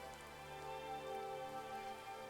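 Steady rain from the video game The Darkside Detective patters continuously on a surface, a dense even hiss with a faint tonal hum beneath, no voices.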